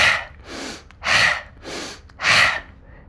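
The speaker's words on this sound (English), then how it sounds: "As we're rocking back and forth, we're going to be breathing." Rapid, forceful breaths through the mouth during a Kundalini breathing exercise done while rocking back and forth, five strong rhythmic huffs alternating in loudness, heard close and alone.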